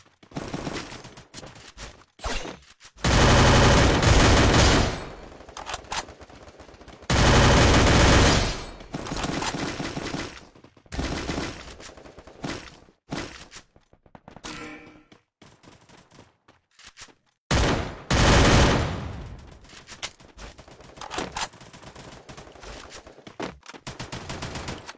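Automatic gunfire from the mobile battle-royale game Free Fire: several long, loud sustained bursts alternate with shorter volleys and scattered single shots, with no speech.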